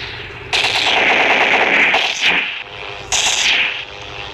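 A Roblox World War II video game plays machine gun fire in two loud, rapid sustained bursts, the first about two seconds long and the second shorter after a brief pause.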